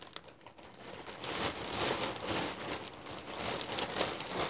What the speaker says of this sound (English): Sorry, I'm rustling again.